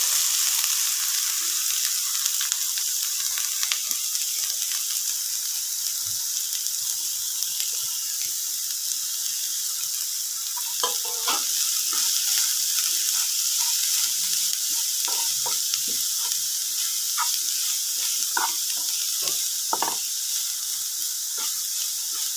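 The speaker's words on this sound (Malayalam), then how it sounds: "നമുക്ക് അരിഞ്ഞു വെച്ചിരുന്ന സവാളയും പച്ചമുളകും കൂടെ ഇട്ട് കൊടുക്കാം" Chopped onions and green chillies fry in a pan with a steady, bright sizzle, joined by scattered scraping and stirring clicks that grow busier in the second half; no one speaks.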